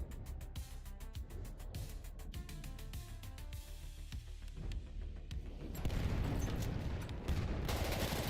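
Battlefield 1 multiplayer gunfire: rapid repeated shots and bursts from several weapons, dense and loud, with heavier booming volleys building toward the end.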